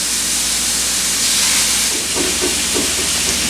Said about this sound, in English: so while that is frying up